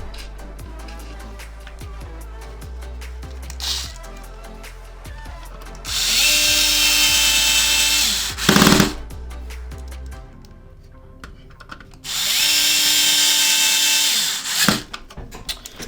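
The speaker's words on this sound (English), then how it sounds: "I'm gonna switch back to my T9 to get these 2 screws in." A T9 Torx bit drives two small screws into an Xbox One X console during a repair, in two loud, close, whirring bursts separated by quieter handling sounds.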